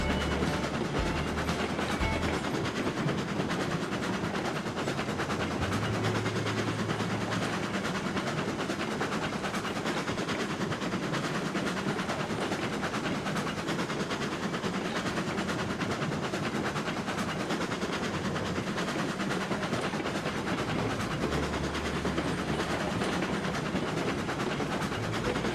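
A video-game locomotive hauls a train up a 2% incline, producing a continuous, even mechanical rumble and rattle with no break and no voices.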